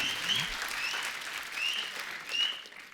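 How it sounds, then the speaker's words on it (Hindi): A studio audience at a television comedy talk show claps in a steady, full burst, with a few whistles rising above it. "एक बार जोरदार तालियां संजू पाजी के लिए"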